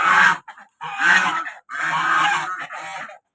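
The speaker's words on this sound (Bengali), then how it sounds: "এই হাঁসগুলো আমি পালি" Domestic desi ducks at a garden house giving several loud honking quacks in short bursts, close by, with no talk.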